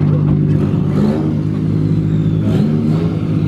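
Several cars pulling into a meet, among them a Nissan GT-R and a Skyline, their engines droning loud and close with rising revs over a steady low rumble.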